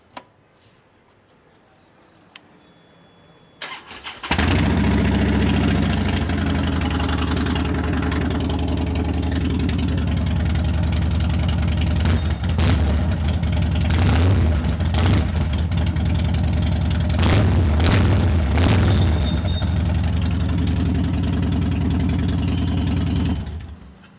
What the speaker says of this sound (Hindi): this is how this beautiful looking street bob sounds